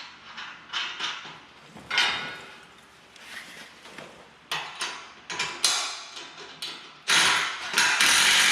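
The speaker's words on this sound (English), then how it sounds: "an impact gun and a wrench sure makes it a lot easier" An impact gun and a wrench tighten 19 mm nuts and bolts on utility trailer leaf springs, in repeated short, sharp rattling bursts and ratcheting clicks close by.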